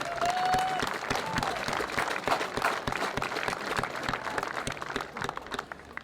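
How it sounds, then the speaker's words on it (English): Crowd at a school sports final applauds the teams, with many hands clapping at moderate volume in a busy, sustained patter that slowly thins over several seconds. "So a round of applause for you guys."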